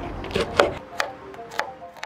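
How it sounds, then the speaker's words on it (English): Knife chopping onion, garlic and chili on a cutting board while preparing sate lilit: a few sharp, separate knocks in an uneven rhythm, close and fairly clear with no voices. "Meanwhile, cut the onion, garlic, and chili."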